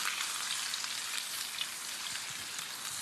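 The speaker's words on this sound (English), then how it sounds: "Melt the butter into the oil." Butter melting into olive oil in a pan, giving a steady, even sizzle and crackle that stays close and constant throughout, with no talking.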